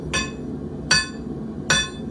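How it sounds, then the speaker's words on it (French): A forging hammer strikes metal, always hitting the same spot on the workpiece during a forge exercise: three loud, ringing blows spaced about three-quarters of a second apart over a steady low background hum. "Moi, mon marteau va taper toujours le même endroit"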